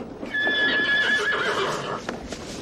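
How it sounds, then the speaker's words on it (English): A horse in an old western setting lets out a loud, close whinny lasting a couple of seconds, with a few hoof clops under and after it. "Oh, that's Jimmy's horse"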